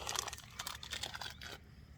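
Someone crunching and chewing ginger crunch cream biscuits during a night carp fishing session, a close run of crisp bites and crackles over about a second and a half that then fade to quiet.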